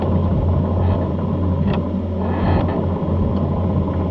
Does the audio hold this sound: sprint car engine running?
yes